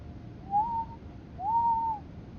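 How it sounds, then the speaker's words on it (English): An Acela train whistle sounds on the Northeast Corridor in Train Simulator 3: two soft, smooth tones that rise and then hold, the first short and the second longer. They are fairly faint, with no voices. "I have a hard time calling them train whistles when they sound like that."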